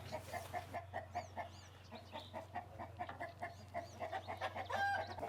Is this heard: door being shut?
no